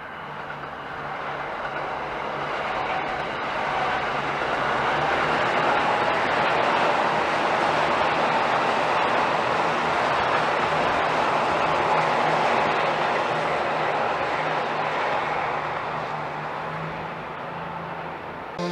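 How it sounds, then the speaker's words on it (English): A train plows through snow, kicking up a small blizzard, heard as a loud, steady broadband roar and hiss that swells and holds for the whole stretch with a low rumble beneath, no voices. "Train passing through snow making small blizzard."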